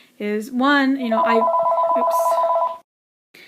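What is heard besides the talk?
telephone ringing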